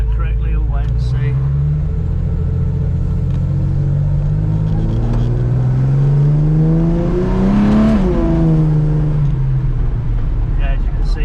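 A VJ Charger with a HEMI 6 265 engine, triple Webers and a solid cam accelerates hard through first and second gear. Its loud, throaty engine note climbs steadily, dips at a gear change, then climbs again, with a voice talking over the rumble.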